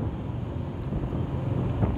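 Wind buffeting the microphone on a motorbike cruising at roughly 36 to 40 km/h, a steady low rumbling roar that swells slightly in gusts throughout.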